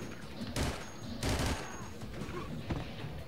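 Bursts of Battlefield 2 gunfire crackle across a noisy battlefield, with two heavy volleys about a second apart and a sharper single crack near the end, mixed with faint background voices.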